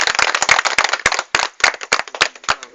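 Guests at a Nepali betrothal ceremony clap close by in sharp, fairly quick, slightly irregular claps that come in short runs with a brief pause midway.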